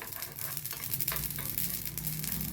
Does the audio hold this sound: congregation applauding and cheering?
no